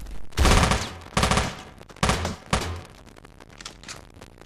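Shotgun blasts in the top-down shooter Teleglitch, four heavy booming shots fired in quick succession down a corridor, loud and close, each trailing off in a short rumble.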